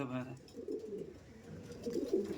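Andhra pigeons coo in soft low rolling calls close by, with a voice talking over them at the start.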